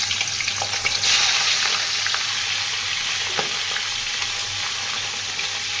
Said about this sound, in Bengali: চিংড়ি মাছগুলো আস্তে আস্তে ফ্রাই করে নেবো।